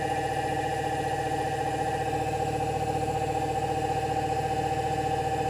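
An electric motor held at a steady speed of about 2,290 RPM by a Solectria AMC/UMOC test box, giving a constant close tonal whine with a low steady hum beneath, unchanging throughout.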